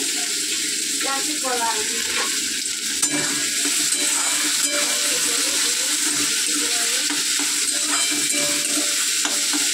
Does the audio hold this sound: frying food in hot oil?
yes